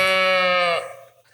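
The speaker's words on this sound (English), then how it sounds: "Well, there was a sheep around." A sheep in a video game gives one loud, close, drawn-out bleat that trails off after about a second.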